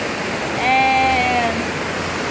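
The Cachoeira da Bica waterfall beside highway BR-262 gives a steady, full rushing wash of falling water close by. A voice briefly sounds over it midway, and the roar continues unchanged throughout.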